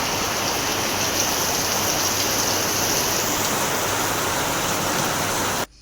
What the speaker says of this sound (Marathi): पाऊस बघा किती आहे थांबलो इकडे जाम पाऊस आहे जोरदार पाऊस लागला